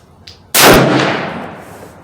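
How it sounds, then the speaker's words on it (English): A single loud rifle shot from an open-sighted lever-action, either a Browning BLR .358 Win or a Henry 45-70, fired close at a target 50 yards away, with a sharp crack and a long echoing decay outdoors. "Second shot, left lower target at 50 yards."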